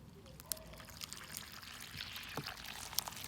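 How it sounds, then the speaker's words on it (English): Water poured from above gushes down a small model riverbed over soil, a steady close splashing pour with trickling and dribbling as it soaks into the earth, continuous for a few seconds with no talk. "a big storm comes and water gushes down my riverbed"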